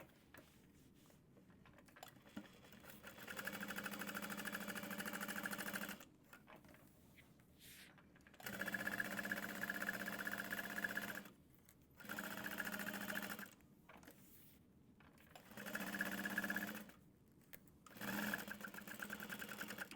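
Sewing machine basting the pocket of a medium-sized tote bag, with several steady stitching runs of a few seconds each, separated by short pauses, close and clear.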